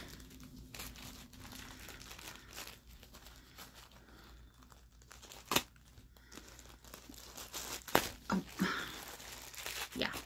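A plastic bag crinkles and crackles intermittently while its label is cut, with scattered rustles building to sharper crunchy bursts near the end, fairly close; a voice is faintly present.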